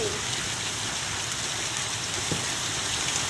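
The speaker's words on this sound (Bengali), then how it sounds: "এই দেখো পুরো রাস্তা ভর্তি বৃষ্টি, সাথে সিল, বড় বড় শিলা বৃষ্টি" Heavy rain mixed with large hailstones pours onto a road, a dense, continuous close patter with a single sharper knock partway through.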